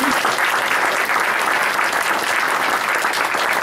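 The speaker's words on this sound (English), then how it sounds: "let's give these young people a round of applause." Sustained applause from an audience at a Hood County Tea Party meeting, steady and dense clapping filling the room throughout with no pauses.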